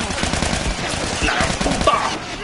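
Machine gun fire in The Last of Us: a continuous rapid rattle of automatic shots at steady loudness throughout, with a faint voice underneath.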